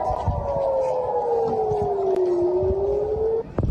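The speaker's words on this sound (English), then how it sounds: "We've been hearing air raid sirens across Israeli cities." An air raid siren sounds across Israeli cities as a single loud wailing tone that slowly slides down in pitch, then climbs again before cutting off, over steady background noise.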